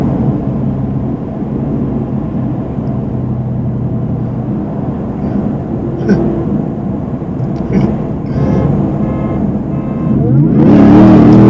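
A supercharged Ford F-150 pickup races a car at over 100 mph, giving a sustained roar of engines and rushing wind that swells louder toward the end.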